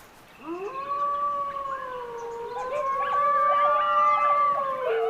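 Dingoes in the Burragarang Valley give long, rising howls, with several voices overlapping into a loud, sustained chorus of wavering tones and no talk.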